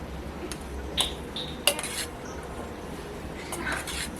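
A spoon mixing Maggi masala in a bowl gives a few sparse, light clinks and scrapes against quiet background, each tap brief and fairly close.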